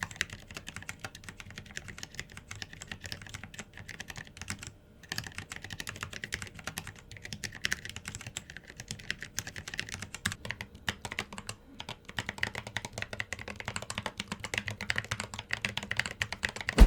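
Fingers type steadily on thick-walled plastic keycaps about 1.9 mm thick, producing a continuous run of quick, moderately soft clacks with only a brief pause.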